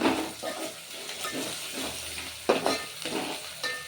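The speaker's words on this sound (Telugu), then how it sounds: "అల్లం ఎల్లిగడ్డ మంచిగా వేగింది మనకు నూనెలో" Ginger garlic paste with turmeric sizzling in hot oil for a chicken curry, a steady crackling fry broken by several sharper stirring scrapes and clinks of a utensil against the pan, with no one talking.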